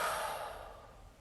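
A single deep breath, a soft airy exhale that fades over about a second, close and quiet, with no talking.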